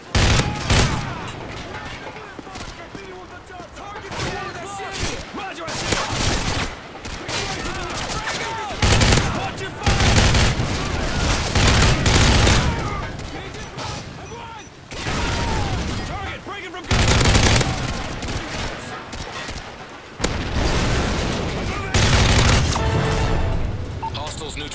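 Gunfire and a frag grenade blast from a tactical shooter video game set on an offshore platform: loud, dense bursts of automatic fire with heavy booms recurring throughout, while voices talk over the action.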